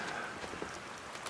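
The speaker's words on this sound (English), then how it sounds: "A little bit of rain." Light fall rain patters steadily outside a yurt in the mountains, a soft, even hiss heard from indoors, faint and without voices.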